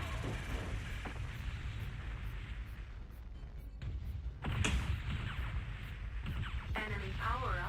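An enemy mech blows up in MechWarrior 2: Ghost Bear's Legacy, a loud, heavy rumble of booms and bursts under constant battle drone, with a sharper blast midway and some voice in the mix.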